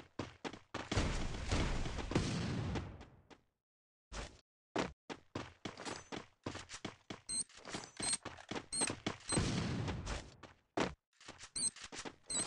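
Grenade blasts and rapid gunfire from the video game Free Fire, with an M4A1 in use, come as a dense burst followed by a short lull and then a long run of sharp, loud bangs and thuds.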